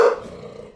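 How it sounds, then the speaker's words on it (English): A dog gives a single short, low growl that trails off within a second, close and moderately loud, with no talking. "Excuse the dogs."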